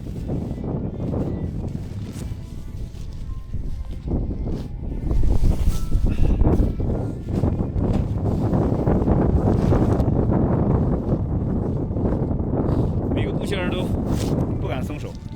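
Strong gusting wind on a snow-covered mountain, loud buffeting roar against the microphone that surges and eases in waves, with brief flapping bursts of tent fabric and some talk over it.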